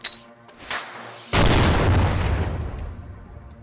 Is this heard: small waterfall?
no